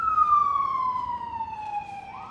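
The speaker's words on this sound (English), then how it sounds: "Sorry, sirens." A passing emergency vehicle siren wails outside in a loud, steady tone that slowly falls in pitch as it goes by, with no other sound over it.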